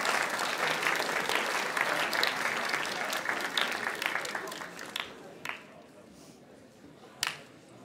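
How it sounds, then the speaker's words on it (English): Audience applause fills a band banquet hall for an award presenter, dense and sustained before thinning into scattered claps and a few sharp final slaps. "Kevin, a round of applause."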